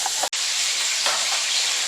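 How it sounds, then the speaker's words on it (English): Meat sizzling in a pan for pasta sauce, a loud steady hiss close up, broken by one brief gap. "So I'm going to cook this meat down"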